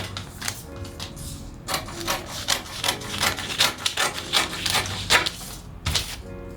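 Scissors cutting fabric along a round neckline, a quick series of crisp rasping snips and rubbing strokes, close and fairly loud with no talking.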